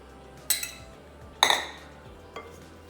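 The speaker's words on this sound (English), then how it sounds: "So now after adding paneer, I'm going to mix this again" A spoon mixing moong dal chilla batter with crumbled paneer in a bowl, giving three separate clinking, scraping strokes against the bowl's side at a steady pace, near and clear with no talk.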